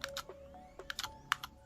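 Buttons on KINVOCA Joy-Con controllers for the Nintendo Switch being pressed: a quick series of sharp, light plastic clicks at close range with short gaps, fairly faint and without speech.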